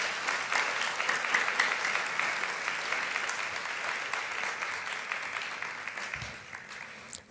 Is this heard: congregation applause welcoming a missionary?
yes